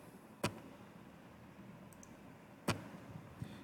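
A button being clicked twice, with two sharp, isolated clicks about two seconds apart over a quiet room hiss and a faint tick near the end.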